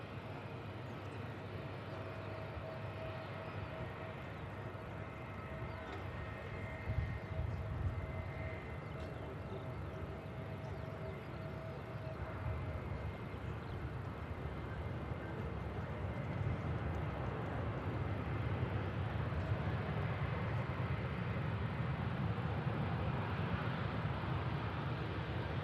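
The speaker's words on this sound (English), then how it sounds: "There's the EasyJet Neo coming in from Enfida" An EasyJet A320neo-family airliner lands after a flight from Enfidha, a steady broad jet roar building gradually and holding loud throughout, with no voices over it.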